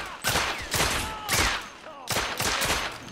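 Rapid bursts of gunfire from the video game The Order ring out in several loud, close volleys with short gaps between them, each crack followed by ringing echoes and no talk.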